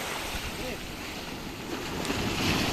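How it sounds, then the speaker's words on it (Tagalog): Big sea waves washing and surging around a small fishing boat at sea, a steady broadband roar mixed with wind buffeting the microphone, building slightly toward the end. "Lalaki ng alon."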